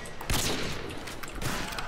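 Gunfire in Modern Warfare 2 on PC during a free-for-all match: a loud, blurred burst of shots close by, with a second cluster about a second later over constant game noise.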